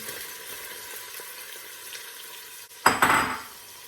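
Chopped onions hit the oil in a pot with oxtail stew on the go, bursting into a loud, sudden sizzle near the end after a quiet stretch of low kitchen hiss.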